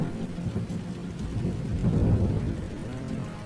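Steady rain pours down while deep thunder rumbles low and continuously beneath it. No one speaks.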